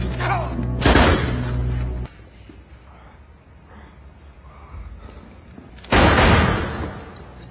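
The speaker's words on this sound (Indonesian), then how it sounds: "terjadi penyerangan terhadap rumah persinggahan, menewaskan beberapa agen Daniel, termasuk Daniel sendiri ditembak di depan mata Matt" Heavy bursts of gunfire during an attack on a safe house in an action film, loud at the start, a quieter stretch in the middle, then another loud burst near the end.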